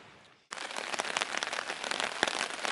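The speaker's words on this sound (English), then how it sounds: "Started raining again." Rain starting abruptly at a Boundary Waters wilderness campsite, a sudden dense patter on surfaces that holds steady and fairly close, with no talking.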